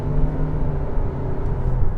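Engine of a 2023/2024 Toyota Prius Hybrid Limited accelerating, a steady droning hum with a vacuum-cleaner-like whir over low rumble, close and fairly loud, without speech.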